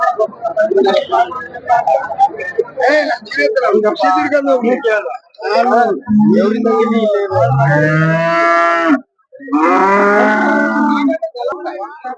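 Cows moo loudly and repeatedly nearby, long drawn-out calls rising above busy crowd chatter and people talking at a cattle market.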